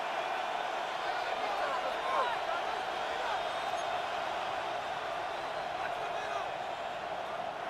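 Stadium crowd noise from a Madden NFL football game, a steady broad roar that holds at even loudness throughout, with no clear peaks, as a Packers game reaches third down.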